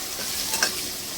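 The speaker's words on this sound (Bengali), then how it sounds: "আলুটা ভালো করে লাল লাল করে ভেজে নেব।" Potato pieces with salt and turmeric fry in white oil in a wok, a short burst of steady sizzling hiss with a small crackle near the middle, no one speaking.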